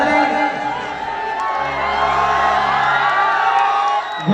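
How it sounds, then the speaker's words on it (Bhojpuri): Crowd cheering and whooping at a live Bhojpuri stage show, loud and sustained for about four seconds, with a steady hum of voices and shouts filling the space and no clear pause. "एक बार जोरदार ताली"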